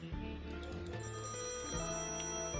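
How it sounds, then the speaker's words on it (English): A telephone rings in the point-and-click game Thimbleweed Park, a faint, steady electronic ring with tonal layers sounding alone. "Should we answer the phone?"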